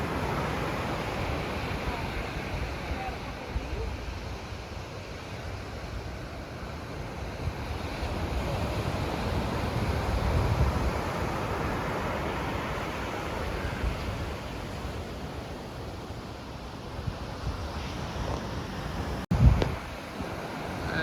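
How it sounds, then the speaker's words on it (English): Ocean waves roll onto Varadero Beach under a steady rush of wind buffeting the microphone, a continuous broad wash of surf with a brief knock near the end and no clear speech. "This is Varadero Beach, just outside of our hotel room."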